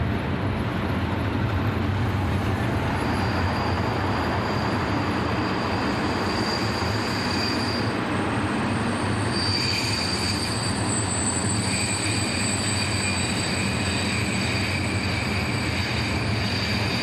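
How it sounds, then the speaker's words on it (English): Class 151 locomotive hauling a southbound container train, approaching with a continuous rolling rumble of wagons and high, drawn-out wheel squeals rising and fading over it before coming to a stop, loud and steady throughout. "Class 151, number 151145, approaching with a southbound container train before stopping at a red signal"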